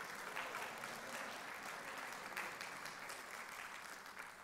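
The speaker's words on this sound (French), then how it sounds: "on aime applaudir dans cette église" A church congregation applauds steadily and fairly loudly throughout, a dense continuous clatter of many hands with no voices standing out.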